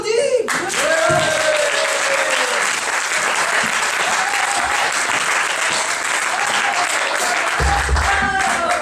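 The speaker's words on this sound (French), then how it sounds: "On les applaudit." Concert audience at a Fête de la musique show applauds performers, sustained crowd clapping lasting several seconds, with faint voices and microphone handling sounds mixed in and a low thump near the end.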